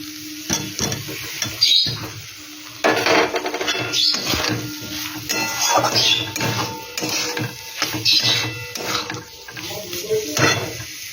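Potatoes go into a fried spice paste for egg pulao, with a lively sizzle and repeated scraping and clattering of a spoon against the pan, close and busy, with some faint background voices.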